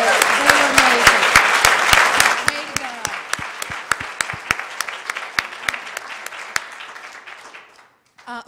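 Audience applause fills a school spelling bee hall, dense clapping at first that thins into scattered individual claps over several seconds before fading out.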